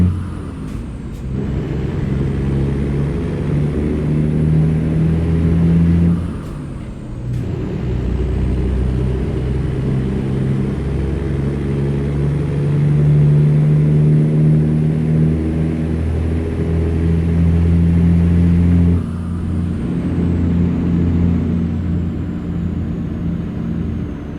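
A truck hauling milk through Texas in American Truck Simulator, its loud, steady engine drone dipping and rising again as gears shift, with brief hissing breaks between shifts.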